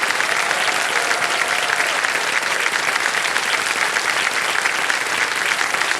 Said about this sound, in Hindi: तालियां बजती रहे अनन्या के लिए